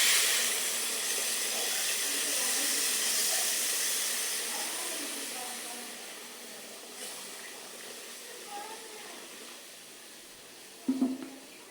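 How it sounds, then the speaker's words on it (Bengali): Hot water poured into a cooking pot of village-style eggplant, potato and pumpkin bori curry, a steady hissing pour that runs for several seconds, fades toward the end, then ends in a short clatter. "গরম পানিটা দিয়ে দিলাম।"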